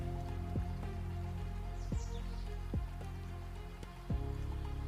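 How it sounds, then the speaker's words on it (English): Rain falls steadily and softly, a constant gentle patter with a few sharper drips landing at irregular moments, and no voices. "The sound of real rain fills the hall."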